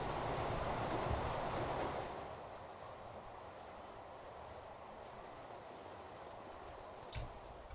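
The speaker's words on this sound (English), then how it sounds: "That's your train that almost stretches between the two stations." A quarter-mile-long goods train rolls past in the Transport Fever game, a steady low rumble of rail cars that fades a little after two seconds, with a brief clatter near the end.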